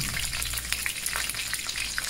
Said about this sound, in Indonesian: aku goreng bawang merah sama daun kari